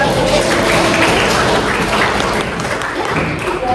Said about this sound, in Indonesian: Oke, tepuk tangan juga untuk